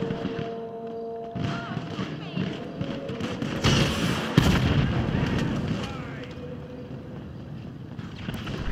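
Rocket launcher blasts and explosions in the game GTA V, booming repeatedly over a dense din of gunfire and game noise, with people talking throughout.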